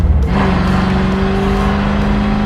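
A 1964 Ford Galaxie with a big block and four-speed accelerates hard on a road, its engine roaring loud and close with a rising tone after a brief shift, the exhaust droning steadily.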